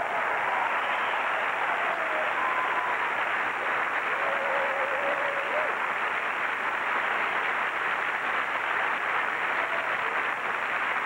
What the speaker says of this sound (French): de bien applaudir nos danseurs et danseuses sous la direction de Dominique Giraldo